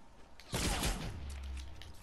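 Video game gunfire in Fortnite: a sudden loud burst of several rapid shots hits hard, then trails off into a lingering rumble and fainter crackle.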